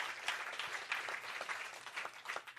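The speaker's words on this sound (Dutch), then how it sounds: "Applaus voor onze acteurs." Theatre audience applause for the actors at a live show, a soft, distant wash of steady clapping from a crowd, fairly quiet and even throughout.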